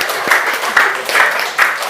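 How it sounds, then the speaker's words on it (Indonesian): Students in a classroom clapping in a rhythmic unison pattern, a few distinct group claps in a steady beat, fairly loud and close. "Tepuk tangannya mana?"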